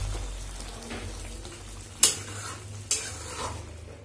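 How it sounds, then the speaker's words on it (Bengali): Palak paneer is stirred in a pan with a soft, close sizzle and gentle scraping, broken by two sharp clanks of the utensil against the pan near the end. "ভালো করে নেড়ে নামিয়ে দেবো।"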